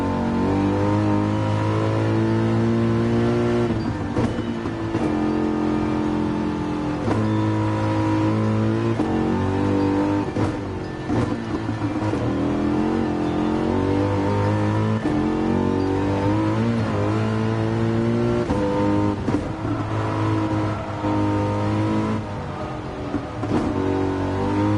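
Race car engine in Gran Turismo 7 on the Nordschleife, loud and continuous, revving up through gears with repeated shifts and drops in pitch, no talk over it.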